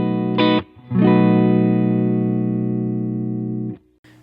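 A sustained electric guitar chord through a Brown Amplification Protein overdrive pedal rings out with thick distortion after a short first strum, then cuts off abruptly.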